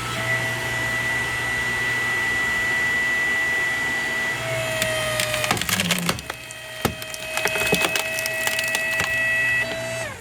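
A 5 ton electric log splitter drives through a log with a sharpened wedge: a steady motor whine strains, then a burst of loud cracking and splintering wood as the log gives way, the motor still running.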